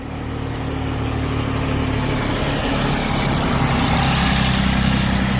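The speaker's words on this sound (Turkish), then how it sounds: "Bu arada sanırım bir tane traktör geliyor." A tractor's heavy engine rumbles close by on a Danish village road and grows slightly louder, a steady low drone as it rolls past, with no voices.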